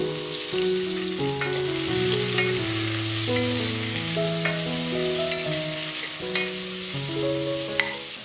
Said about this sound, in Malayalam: സവാള ചേർത്ത് നല്ലപോലെ ഒന്ന് വഴറ്റി കൊടുക്കണം.